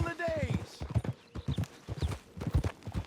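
Horse hooves clip-clop in Red Dead Redemption 2, a steady rhythmic gait of close, distinct hoof strikes while a character speaks over them.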